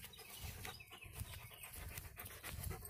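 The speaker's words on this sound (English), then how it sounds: "He's our livestock guardian dog," A Great Pyrenees livestock guardian dog panting at a sheep farm, steady quick rhythmic breaths, close but faint, with faint bird sounds in the background and no talking.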